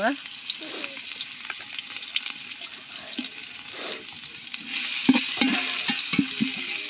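Chopped onion frying in hot oil in a pan, cooked while making an Adivasi chicken biryani in Mayurbhanj; a steady close sizzle with occasional stirring scrapes, growing louder partway through.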